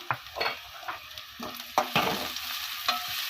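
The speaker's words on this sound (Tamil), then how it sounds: "இஞ்சி பூண்டு பேஸ்ட் கொஞ்சமாக சேர்த்துக்கோங்க இப்போ நல்லா வதக்கி விட்டுறலாம்" Ginger garlic paste with chili and turmeric sautéing in a pan for vegetable pasta, with steady close sizzling broken by several sharp scrapes and clinks of a spoon stirring against the metal.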